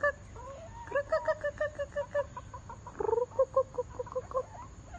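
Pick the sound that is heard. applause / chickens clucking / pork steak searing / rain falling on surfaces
chickens clucking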